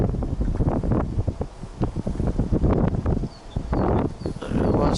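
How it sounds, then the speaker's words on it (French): Strong wind buffets the microphone in heavy, gusting roars, with a brief lull midway before the blasts return, loud and close. "Mais il y a beaucoup de vent."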